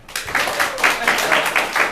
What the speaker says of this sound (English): Clap if you think we should make him do it.